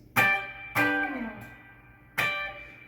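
Three ringing electric guitar chord stabs in a rhythm style, bright and close, the second one sustaining longer before fading, played alone without talk.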